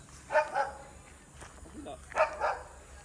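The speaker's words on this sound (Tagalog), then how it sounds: "Kaninong aso yun?" Two short bursts of dog barking, a pair of barks each time, moderately close, with faint outdoor background noise between them.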